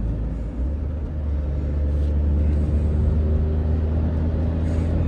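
A Smart car's engine drones close by, a steady low rumble building as it accelerates at full speed onto a highway, with no talking.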